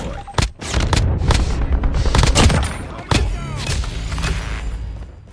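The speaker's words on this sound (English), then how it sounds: "Sentry gun deployed." Rapid bursts of automatic gunfire from a sentry gun in a shooter video game, loud and close, with dense repeated shots and booming impacts through most of the stretch.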